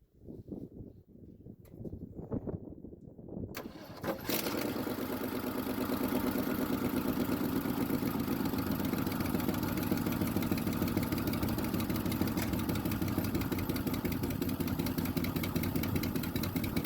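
A 1976 Ford F-250 pickup engine cranks with uneven chugging for several seconds, then catches and settles into a loud, steady, rough idle that continues close by until the end.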